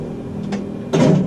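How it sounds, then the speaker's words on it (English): A flight deck door in a flight simulator cockpit shuts and locks: a faint click near 0.5 s, then a louder, fuller thud-and-latch clunk about a second in, with no talk over it. "Before start, flight deck door closed and locked."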